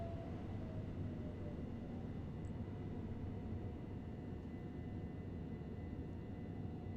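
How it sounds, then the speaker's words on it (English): A commuter train in Train Sim World 2 rumbles low and steady as it brakes to a stop, with a faint tonal whine over the drone, quiet and even throughout with no talk. "Should probably stop the train, shouldn't I?"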